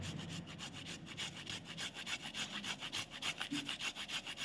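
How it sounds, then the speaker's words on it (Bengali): Fresh ginger rubbed over a grater onto guava, rapid rhythmic rasping strokes close up, quiet but distinct, growing more pronounced toward the end with no talking. "এই যে আদাটা এর মধ্যে একটু, পেয়ারার মধ্যে একটু ঘষে দিব"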